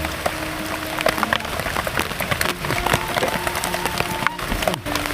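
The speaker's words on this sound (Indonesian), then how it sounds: "karena hujan semakin gede" Heavy rain keeps falling on a roof or surface outside during a meal, a steady dense patter with sharp drips and knocks, while people talk nearby.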